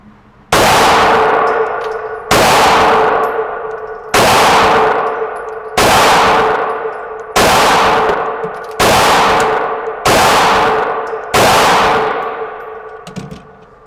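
A Smith and Wesson EZ 9mm pistol fires 124 grain round-nose rounds at a target five yards away. Seven loud, sharp shots come at an even, unhurried pace, and each rings out briefly before the next.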